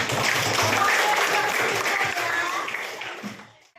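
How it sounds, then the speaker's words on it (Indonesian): Classroom students clap together in a dense burst of applause, loud and close, then taper off and fade out near the end. "Tepuk tangan."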